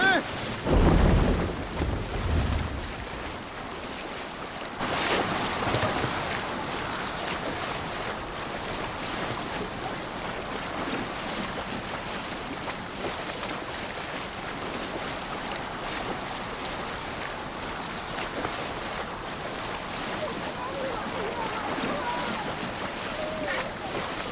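A Viking ship sails at sea in Assassin's Creed Valhalla: a steady wash of waves and wind with rushing water along the hull, louder in the opening seconds and then settling into a continuous roar.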